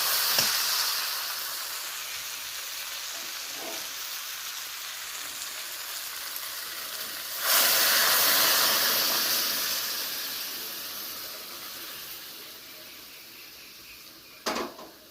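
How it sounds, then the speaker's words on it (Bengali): Water is poured into a hot pan of fried fish head and potatoes, setting off a steady frying hiss that flares into a louder steamy sizzle midway and fades, with a brief sharp burst near the end. "এবার আমি জলটা দিয়ে দেবো।"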